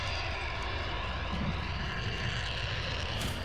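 A VTOL aircraft in Modern Warfare drones steadily overhead, a continuous engine roar that holds at an even level throughout without any talk.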